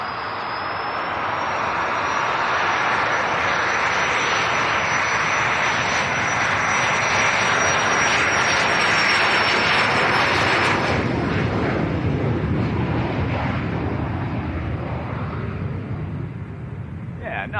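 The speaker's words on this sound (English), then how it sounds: "Airborne very early. Little Cessna citation, that one." A small Cessna Citation business jet climbs away from Leeds Bradford Airport, its loud engine roar and high whine swelling then slowly fading over several seconds, heard from nearby on the ground.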